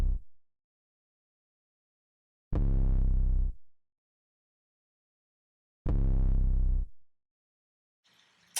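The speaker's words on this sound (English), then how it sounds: "build a Mexikodro, like a Pluggz type 808," A Plugg-style 808 kick drum built in the Serum synth: two long, deep booming bass hits about three seconds apart, each sustaining around a second before cutting off, with silence between and a short faint noise burst at the end.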